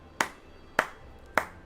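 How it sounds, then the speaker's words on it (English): Three slow hand claps ring out sharply at an even, deliberate pace about half a second apart, each a single crisp burst standing alone over a low hum. "that gets a slow clap."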